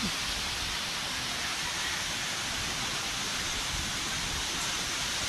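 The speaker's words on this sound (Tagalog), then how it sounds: "Lakas ng ulan." Heavy rain pours down on a vegetable garden, a dense, even hiss that stays loud and unbroken for the whole stretch, with no voices.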